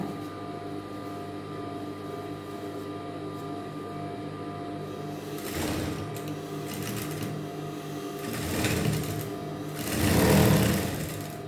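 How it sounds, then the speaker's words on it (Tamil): A sewing machine stitches fabric side seams together in steady runs of fast mechanical chatter, with louder bursts toward the end and a constant hum underneath. "வச்சு மறு சைடு தைக்கிறோம்."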